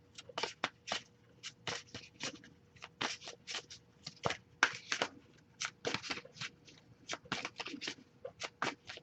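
Rapid bursts of tarot cards being shuffled, crisp riffling flutters coming in quick irregular clusters, close and fairly quiet with no talking.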